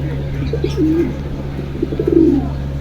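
Pigeons coo at a pigeon market in Jinjira bazaar, with two soft rolling coos and a few faint chirps over a steady low mechanical hum.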